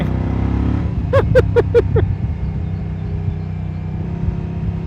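A 2024 Moto Guzzi Stelvio touring motorcycle revs up quickly on the throttle, several sharp rising engine bursts close by over a steady road rumble.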